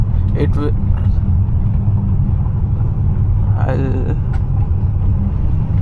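A Hyundai Santa Fe engine at full throttle while held in second gear, a loud, constant low rumble heard from inside the cabin, with someone talking over it.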